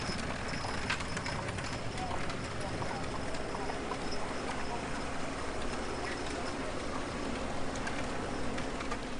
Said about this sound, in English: as the horse-drawn carriage approaches the Edmund Pettus Bridge